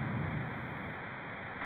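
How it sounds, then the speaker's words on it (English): Stormy night ambience from the video game Blaster Master: Blasting Again, with steady rain and a low thunder rumble that swells early and then settles into a constant, fairly loud wash. "It was a dark and stormy night."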